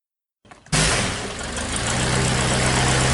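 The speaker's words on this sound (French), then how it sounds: "Donc, vous l'entendez, le pilote a mis le moteur en marche." An aircraft engine is started by the pilot at the Luchon aerodrome: after a brief sputter, a loud, steady mechanical roar catches and settles into a continuous drone nearby, with no voices.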